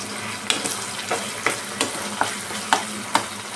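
Basa fish and spice masala being pressed down and fried in a pan over a high flame, with continuous close sizzling punctuated by regular sharp spatula presses and scrapes.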